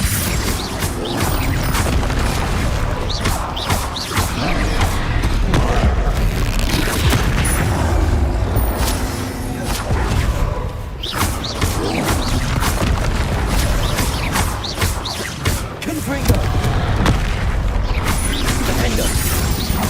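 Confringo and Incendio spells are cast during Hogwarts Legacy combat, with a loud, continuous mix of fiery blasts, booms and crackling impacts that layer over each other and barely let up throughout.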